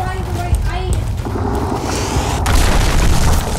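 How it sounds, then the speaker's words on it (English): A wall is blown up in the Roblox video game, giving a deep game explosion boom under overlapping talk from players. "Let them blow up the wall, kind of. Yeah, blow it."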